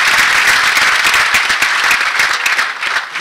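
Audience applause at an honorary doctorate ceremony, a loud, dense and sustained round of clapping from a large hall crowd.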